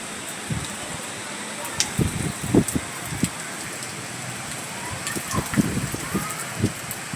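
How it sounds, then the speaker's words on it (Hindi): Heavy rain pours down in Mumbai, a dense continuous hiss with scattered louder drips and knocks on nearby surfaces, steady and close throughout. "कितनी भयंकर बारिश हो रही है"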